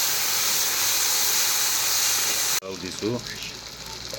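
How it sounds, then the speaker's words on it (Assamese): Fish paste with ginger, garlic and chili frying in hot oil, a loud steady sizzle and hiss filling the first half before cutting off abruptly, followed by a quieter kitchen with someone speaking briefly. "লগতে তেলতে ফ্ৰাই কৰি ল'ম।"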